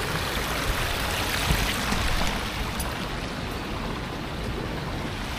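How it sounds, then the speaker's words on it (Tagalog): A waterfall at an irrigation outlet pours with a constant dense rushing roar, loud and close, steady from start to finish with no voices. "Ang ganda ng falls, oh."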